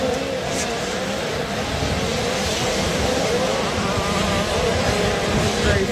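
Mini motocross bikes race on the Mini O's course, their high-pitched two-stroke engines buzzing steadily and loudly in a continuous droning whine.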